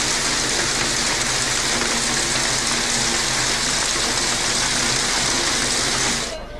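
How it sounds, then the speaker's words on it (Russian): Hail drums down during a storm as a dense, loud, continuous roar of pelting impacts, steady throughout and then tapering off abruptly near the end. "Град барабанил минут 20."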